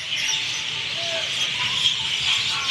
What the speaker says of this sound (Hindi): देख रहे हैं कितनी चहचहाने की आवाज़ आ रही है